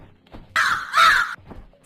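A crow caws as a sound effect in an animated Hindi moral story, two harsh, loud caws in quick succession, clear and alone with no voices.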